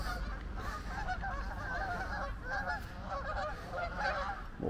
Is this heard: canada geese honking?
yes